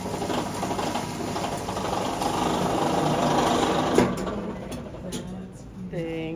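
A machine mixer blends fresh raspberries into ice cream with a steady whirring, grinding mechanical drone that runs throughout, close and fairly loud, with a short clatter near the end.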